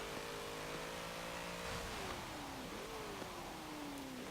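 A 1990 Alfa Romeo SZ racing engine in Forza Motorsport holds a steady mid-pitched drone, then its pitch dips and wavers as revs drop and climb again, all under a constant hiss of road and wind noise, with no talk.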